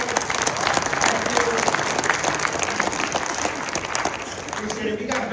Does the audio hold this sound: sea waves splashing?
no